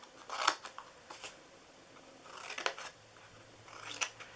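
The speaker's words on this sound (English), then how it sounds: "And then we're going to cut up these." Scissors snip through paper flaps for a handmade treat box, giving several crisp, close cuts in short bursts separated by quiet pauses, with no talking.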